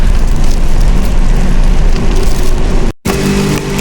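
Steady, dense patter of rain, loud and continuous, with a brief dropout near the end before it resumes.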